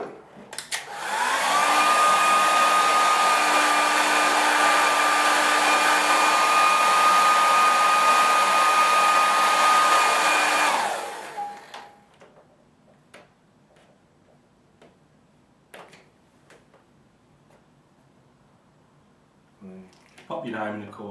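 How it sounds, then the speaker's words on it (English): A hair dryer blows steadily at close range for about ten seconds to dry a watercolour painting, a loud even whine, then cuts off, leaving faint ticking and small handling sounds. "It's not dry. I'm going to have to get the air dryer out."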